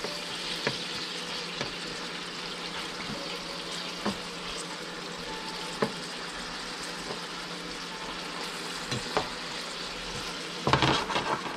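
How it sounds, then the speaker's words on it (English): Food fries steadily in a sauté pan that is shaken now and then, giving a soft continuous sizzle broken by occasional clanks and scrapes, with a busier rattle near the end. "You guys see me shaking this pan."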